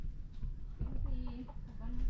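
Chickens cluck softly nearby in short, rising calls over a low rumbling background, with a brief voice mixed in.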